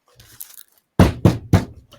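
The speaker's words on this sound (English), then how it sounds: "with knocking, I would also knock on the table." Three sharp knocks on a wooden table in quick, even succession, close and loud, preceded by faint soft handling sounds.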